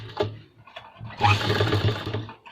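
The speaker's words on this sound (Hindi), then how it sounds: "सिलाई का पक्का टाँका करना है आपने मशीन को आगे पीछे करके" A sewing machine stitches a trouser pocket in short back-and-forth bursts, a brief motor buzz followed by a longer close whirring run that tapers off.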